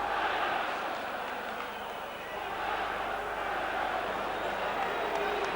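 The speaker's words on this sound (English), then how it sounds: "the crowd have played their part in whipping up a tremendous atmosphere" Loud, continuous football crowd roar at Elland Road during Leeds United versus Stuttgart in the 1992-93 Champions League first round, a broad wall of cheering and chanting that dips briefly before swelling again.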